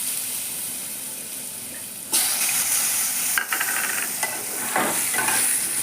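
Diced potatoes hit hot spiced oil with a sudden loud sizzle, then fry steadily while a spoon stirs them with scraping bursts, close and continuous.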